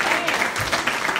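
A church congregation claps in praise during a sermon, a short burst of dense, lively applause at close range.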